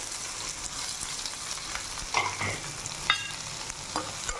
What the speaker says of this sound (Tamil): 2 பெரிய சைஸ் வெங்காயத்தை நல்லா பொன்னிறமாக இதில் வதக்கணும்.